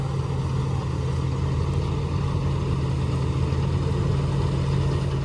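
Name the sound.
harvesting vehicle engine running during wheat harvest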